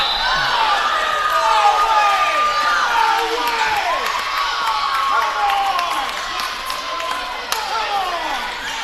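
Home crowd at a 2018 varsity high school volleyball game, Wapahani Lady Raiders versus Southwood, reacting loudly to a disputed line call, with sustained shouting and cheering throughout under squeaking sneakers.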